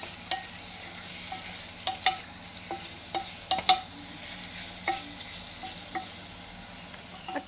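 Beef searing in a pan for an Irish Guinness beef and potato stew, with a steady low sizzle broken by occasional sharp spatula scrapes and taps against the pan; no one speaks.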